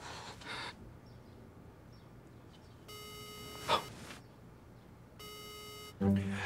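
Telephone dialing tones sound as two long, steady electronic beeps separated by a pause, close and clear over a faint background hiss, with short clicks at the start and end and no talking.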